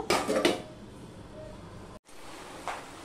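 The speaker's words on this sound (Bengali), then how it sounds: "এবার আমি একদম লো টু মিডিয়ামে দিয়ে ঢাকা দিয়ে রান্না করে নেব।" A lid goes onto a pan of ridge gourd and potato curry with a couple of quick metallic clatters at the start, then a quiet hiss of cooking and a soft clink near the end.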